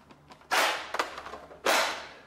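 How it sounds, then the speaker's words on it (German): Two sharp, forceful bursts of air from a Nerf Mega Doublebreach blaster firing darts, close up, each a loud hissing pop that tails off, with small mechanical clicks between them. "Und dann könnt ihr die Darts jetzt verschießen."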